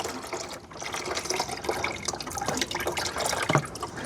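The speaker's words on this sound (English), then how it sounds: "when I tilt this, it's going to drain out the rest of it onto your floor" Transmission fluid draining from a tilted Range Rover ZF8HP pan onto a floor, a quiet running trickle with scattered drips and splashes throughout.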